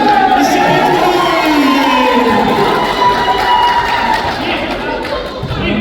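A crowd cheers and shouts at a seniors basketball game between the White Dragons and Gray Wolves, a loud sustained roar of voices with thumps, with a commentator talking over it.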